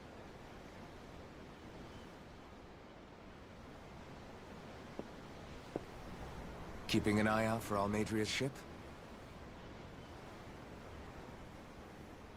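Ocean surf rolls steadily as a soft, broadband wash in Tales of Arise, heard aboard a ship at sea, with a character's voice briefly talking over it midway.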